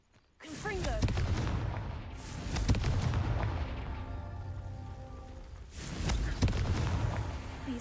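A Confringo fire spell exploding in the Hogwarts Legacy video game, with a sudden booming blast followed by a rumbling decay and then a second explosive burst, heard close and loud.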